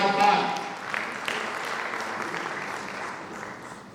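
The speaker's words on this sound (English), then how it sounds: "A big round of applause for Dr." Applause from a conference audience at a data event in Pakistan, starting with a short spoken phrase and settling into steady clapping that slowly fades.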